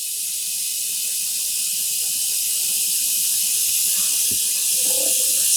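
Tap water running steadily into a container to soak tweed yarn for dyeing, a constant close hiss with a brief splash near the end.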